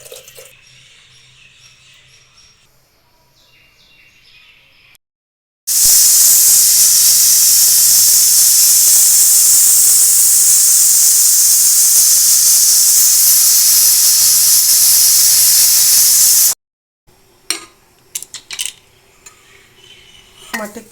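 A pressure cooker cooking dal with tamarind lets out a long, loud, steady steam whistle lasting about ten seconds, framed by quieter clatter of pots and utensils before and after.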